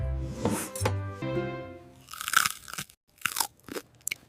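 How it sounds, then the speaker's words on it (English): A crunchy fresh green salad is chewed close to the microphone, with loud crisp crunches in bursts after a brief tonal sound at the start. "Crunch."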